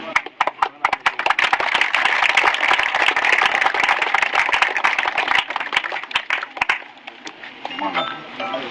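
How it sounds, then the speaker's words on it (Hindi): A crowd at a coaching centre event claps loudly in sharp, uneven bursts for a local panchayat official, the clapping running strong for several seconds before cutting out into quieter background murmur. "आप लोग तालियां बजा सकते हैं।"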